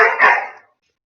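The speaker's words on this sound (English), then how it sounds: "My dog is currently barking" A single dog bark, loud and close, cutting in during an online game session and fading out quickly into silence.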